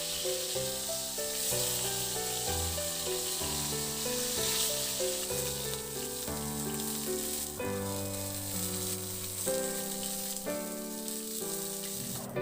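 Chicken searing in hot oil in a pan, a steady close sizzle and crackle running throughout under a backing of music.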